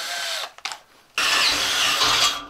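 A power drill with a large bit whirs briefly, stops with a few small knocks, then spins up again loudly and steadily.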